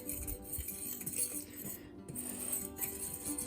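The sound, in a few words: mixing dry ingredients in a bowl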